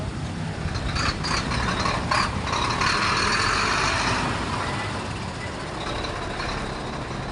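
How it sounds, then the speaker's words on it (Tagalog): Large trucks rumble nearby in heavy traffic, with a loud engine drone and short, repeated reversing beeps rising above it. "Ang lalaki ng truck."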